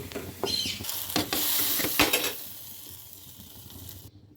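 Fried onion and garlic tempering poured into dal, a sudden loud hissing sizzle with sharp spattering crackles that flares for about two seconds, then settles into a softer fading bubble before cutting off, no voices.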